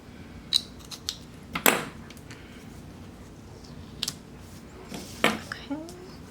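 Scissors snip paper for a Happy Planner dashboard layout in a few sharp, close cuts scattered between pauses, with soft handling rustles and a little quiet talk.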